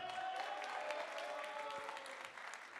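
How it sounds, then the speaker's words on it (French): Audience applause for a group of young apprentice performers at a theatre showcase, a steady dense wash of many hands clapping that holds at an even level throughout, with no talk. "qu'on peut applaudir"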